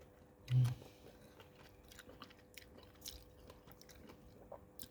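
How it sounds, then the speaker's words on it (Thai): Someone eats a sour green mango salad made with yellow-fleshed kaew khamin mango, with one loud bite followed by quiet, close, moist chewing and small crunches, without talking. "วันนี้จะพามากินยำมะม่วงค่ะ"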